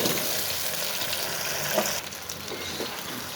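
Chopped tender bottle gourd dropped into frying spice masala, a steady loud sizzle and hiss that shifts slightly as the vegetable lands, close and continuous without talk.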